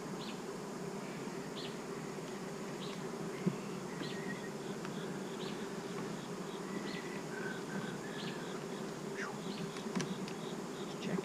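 Honey bees buzz around an open hive during an inspection, as a dense, steady hum with individual bees droning close past, and only faint clicks from handling.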